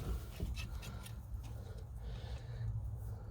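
A blade scraping window tint film off a car window near the rubber seal, a steady close rubbing and scratching texture with faint strokes, no speech.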